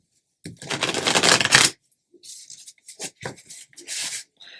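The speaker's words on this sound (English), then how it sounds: "There goes my ability to shuffle once more." A deck of cards riffle-shuffled close up, one long crisp burst of flicking cards followed by several shorter, hesitant riffles and bridging clatters.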